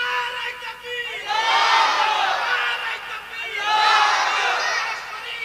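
A large crowd at an outdoor religious gathering shouts takbir in two loud swelling waves of massed voices, each following a single man's call over a loudspeaker.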